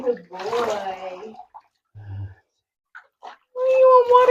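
A Labrador puppy is bathed in a bathtub, with brief splashing and water sounds between bursts of people talking close by.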